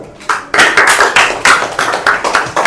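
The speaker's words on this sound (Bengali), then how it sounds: "ফাতেমার জন্য হাততালি দাও" Schoolchildren in a classroom clap together for a classmate, a dense, loud burst of many hands that pulses in steady rhythmic waves for a few seconds, close and with no talking.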